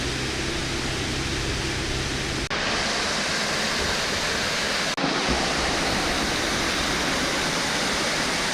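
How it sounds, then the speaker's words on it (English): Westkill waterfall on Hunter Mountain, a steady broad roar of rushing water close by, filling the whole stretch without pause, with two brief dips in level along the way. "the Westkill waterfall down there"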